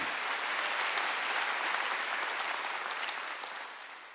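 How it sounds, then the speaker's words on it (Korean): Congregation at a Wednesday church service claps together in a sustained, fairly even burst of applause that fills the room, then eases slightly near the end. "박수 한번 쳐."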